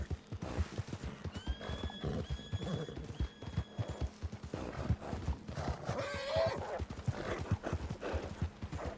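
Horse hooves clip-clop in a steady rhythm in the Red Dead Redemption 2 video game, with whinnies and a talking voice over the game sound.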